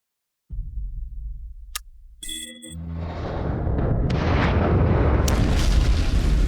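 Heavy artillery cannon fire in an animated series battle, a sudden loud blast followed by a sustained rumbling, roaring barrage that swells and stays loud to the end, with sharp metallic high tones cutting in near the start.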